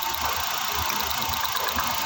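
A Suzuki DA64 engine idles steadily with a low, continuous rumble and broadband hiss, running close up with an ignition coil unplugged and no voices.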